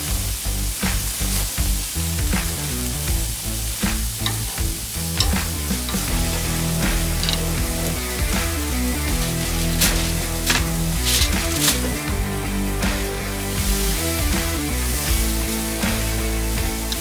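Carne asada sizzles loudly on a pellet grill as flames flare beneath it, a continuous crackling fry with irregular pops and spits throughout, no talking.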